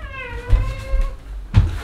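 A house cat lets out one long, drawn-out, close meow, with soft thumps near the middle and a louder knock at the end.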